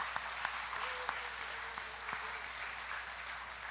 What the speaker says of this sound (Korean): 우리 목사님 박수 쳐드려요.